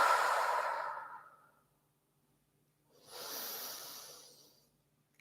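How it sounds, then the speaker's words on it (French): Slow yoga breathing through the nose: a long soft exhale fading out, a pause of silence, then a second airy breath that rises and tapers off. "Expire complètement."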